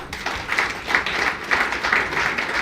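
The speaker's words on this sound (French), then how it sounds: "Monsieur Patrick, il faudrait l'applaudir" A crowd applauds steadily, a dense wash of many hands clapping at moderate volume for a few seconds.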